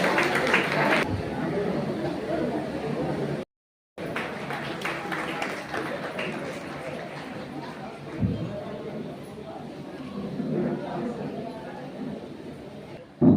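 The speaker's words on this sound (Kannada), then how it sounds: "ಅವರನ್ನ ಚೋರಾದ ಚಪ್ಪಾಳೆ ಮುಖಾಂತರ ಗೌರವಿಸ್ತಾ ಇದ್ದೀವಿ" Audience applauding to honour a guest at a stage function, a sustained patter of many hands clapping, moderately loud, with a brief break and crowd chatter mixed in.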